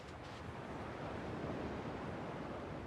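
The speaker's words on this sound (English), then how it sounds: "At least the waves sound the same." Ocean waves wash in a steady, faint hiss of surf, a broad continuous rush with gentle swells and no voices over it.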